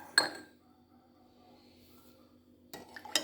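A spoon clinks against a container while stirring about two spoonfuls of salt into water for cheese brine: a sharp clink at the start, quiet swirling, then more clinks toward the end, close and alone.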